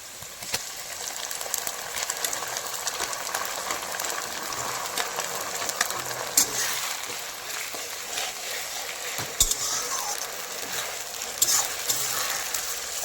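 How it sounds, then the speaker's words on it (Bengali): Ginger paste fries in a pan for a meat curry with eggplant and cauliflower, giving a steady, even sizzle throughout with occasional faint clinks, close and alone. "আদাটা একটু সময় নেবে, কারণ আদা তো গন্ধ থাকে, আদাটাকে ভালো করে কষাতে হবে"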